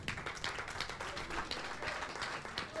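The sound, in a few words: audience applause at a show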